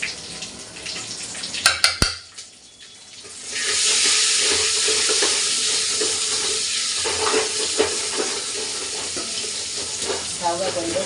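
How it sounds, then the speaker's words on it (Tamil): Dried red chilies drop into hot oil in a home kitchen and set off a loud, steady sizzle that crackles on after a few sharp clinks and a brief lull. "இந்த காய்ந்த மிளகாய் வந்து கண்டிச்சு போடணும்"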